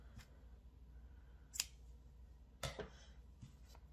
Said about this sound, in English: I'm gonna get my scissors and cut that off